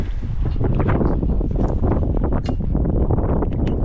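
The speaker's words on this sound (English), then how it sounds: "Another windy day." Strong wind buffets the microphone in a constant rumbling roar, with gusty rustling bursts throughout.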